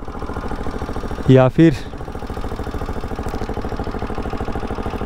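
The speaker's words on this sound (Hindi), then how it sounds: "ये देखो साउंड, देखो RS का साउंड ऐसा नहीं है भाई, इसमें एग्जॉस्ट का कुछ काम हुआ है शायद" A Bajaj Pulsar RS200 BS3 motorcycle idles with a modified exhaust, its steady low throb running close and continuous throughout, with a brief voice cutting in near the start.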